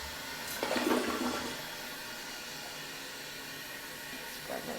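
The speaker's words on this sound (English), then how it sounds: "flushing toilet time." A toilet flushes with a loud rushing surge of water that fades into a steady hiss of the tank refilling.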